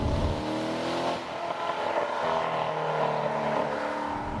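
A 2014 Chevrolet Corvette Stingray Z51 accelerating on a straight downhill run through the gears, a loud steady engine drone heard from inside the car, rising in pitch with a brief dip around a gear change.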